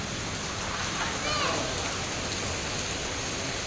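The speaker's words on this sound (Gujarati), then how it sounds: "ધોધમાર વરસાદ શરૂ થઈ ગયો છે." Heavy rain pours down steadily, a dense continuous hiss of drops hitting surfaces, loud and close throughout.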